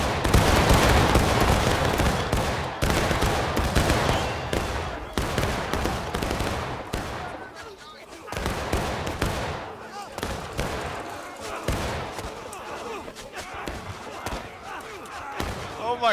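Musket volleys crack in the Civil War game War of Rights, loud overlapping gunshots with a rolling fusillade early on, then scattered reports and echoing booms while players talk over the firing.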